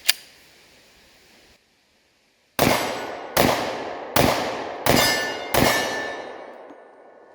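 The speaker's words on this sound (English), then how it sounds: "Now for the shot on target with a 10 millimeter, 5 rounds, 180 grain jacketed hollow point." A 10mm pistol fires five rounds of 180-grain jacketed hollow points at a target, five loud sharp reports spaced under a second apart, each ringing out with a long decaying tail, after an earlier metallic clank and a short silence.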